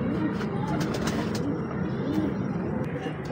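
A Deewan Sahab Goldan pigeon coos softly in low, repeated notes over a steady background hum, with a few faint chirps near the start.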